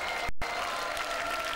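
An arena crowd at the 1992 European Rhythmic Gymnastics Championships voices displeasure at a score, a dense, steady roar of noise with whistling, broken only by a brief dropout near the start.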